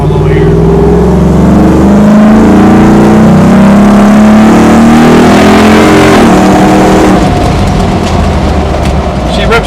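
A 1972 Ford Bronco with a Gen 3 Coyote engine swap runs loud and close, its engine rising and falling through throttle revs and settling to a rough idle, with a voice faintly over it.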